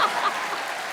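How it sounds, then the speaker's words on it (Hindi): An audience in a comedy show studio claps in a brief, dense burst of applause, fairly soft and fading slightly over a single second. "अब ज्यादा तालियां अर्चना जी के लिए बजाइए"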